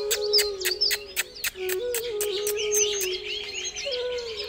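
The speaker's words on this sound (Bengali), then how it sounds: "আর এই দেখো লোটন পায়রা, দেখবে?" Lotan pigeons call in a lively morning chorus of repeated chirps and coos, with sharp clicks or claps pulsing rhythmically early on and a steady low tone running underneath, fairly close and clear.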